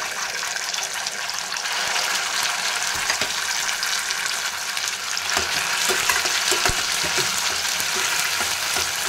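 Cooked white pumpkin drops into hot ghee and oil for halwa, giving a loud, dense bubbling sizzle with gushy, watery hiss and occasional stirring knocks throughout.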